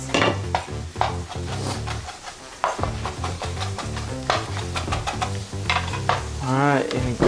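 A salad dressing is mixed and whipped briskly in a bowl with quick, rhythmic scraping and splashing. Sizzling from a nearby pan runs underneath, and a busy kitchen clatters in the background.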